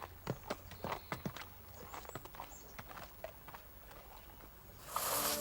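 Hooves clip-clop slowly on a hard surface, a loose walking rhythm, fairly faint and distant, ending in a brief burst of rushing noise.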